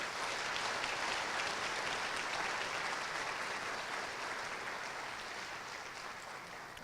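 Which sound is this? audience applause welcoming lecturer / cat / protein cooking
audience applause welcoming lecturer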